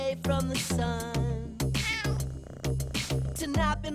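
A cat meows repeatedly inside a song about an ice cream kitty, a string of loud, close, tonal mews spaced about half a second apart, with a few longer drawn-out cries.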